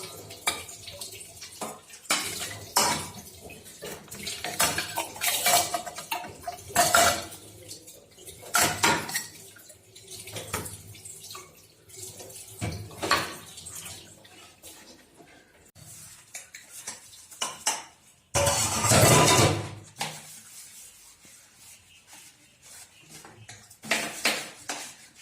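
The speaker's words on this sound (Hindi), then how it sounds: "तो मैं करती हूँ यहाँ पे बर्तन साफ।" Dishes, pots and utensils being washed by hand at home, with intermittent clanks and scrapes of metal vessels, splashes and running water in irregular bursts, close and moderately loud, with one longer burst of water near the end.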